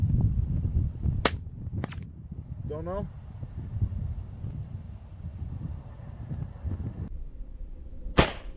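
Smith & Wesson .40 pistol fired freehand at a tree trunk 103 yards away outdoors: sharp, loud cracks, two early and one near the end, over a steady background rumble of wind.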